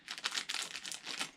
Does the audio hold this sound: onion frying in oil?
no